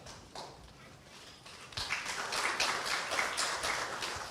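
Scattered applause from journalists at a city mayor's policy briefing in Hwaseong, a sparse patter of claps that thickens partway through, with a low murmur of the room underneath.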